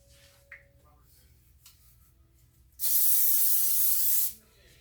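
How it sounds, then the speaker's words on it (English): A loud continuous hiss of cooking spray onto a pan lasts about a second and a half after a quiet stretch with faint clicks, then cuts off abruptly. "we're gonna spray our little pan here, right quick"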